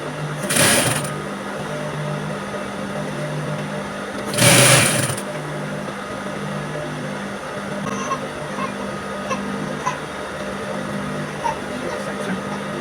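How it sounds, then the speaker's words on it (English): Sewing machine stitching a vintage unisex camp-collar shirt, a steady mechanical whir that runs through the whole stretch, with two short bursts of broadband noise near the start and quieter clicks later on. "Now sew it."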